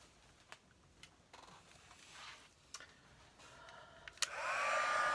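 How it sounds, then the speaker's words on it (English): A craft heat tool used to warm plastic while making a card is switched on near the end, giving a sudden loud hot-air whoosh and whine after a few soft clicks and handling sounds. "I'm going to take my heat tool and heat this up."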